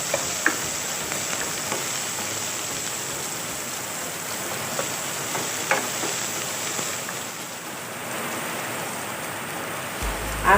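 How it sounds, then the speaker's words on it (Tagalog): Onions sautéing in a pan for a Filipino chicken and tomato dish, a steady close sizzle with occasional stirring scrapes throughout, no voices. "igisa na natin itong sibuyas"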